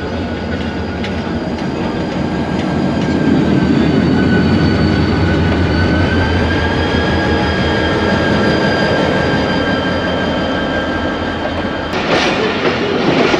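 Karachi Circular Railway local train 4714 rolls out of a station, wheels clacking in steady rhythm over rail joints with a continuous rumble and faint squeal, close by and loud throughout.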